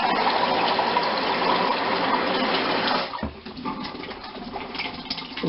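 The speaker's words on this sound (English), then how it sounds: "So we're going to add some water here" Water pouring steadily into a cooking pot of cauliflower for soup, a loud gushing stream that stops partway through, followed by quieter trickling and sloshing.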